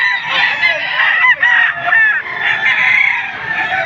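Many chickens and roosters crow and squawk in a dense, continuous chorus at a busy poultry market in Padre Garcia, Batangas, loud and close with overlapping calls and no speech.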